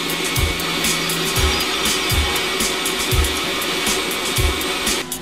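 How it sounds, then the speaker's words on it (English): Vacuum sealing machine packaging finished magnets in a factory, giving a loud steady whirring hiss with regular low thumps repeating about once a second. "the finished magnets are vacuum sealed according to the customer's requirements"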